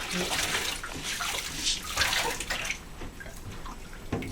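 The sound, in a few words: water rinsing a foot in a bathtub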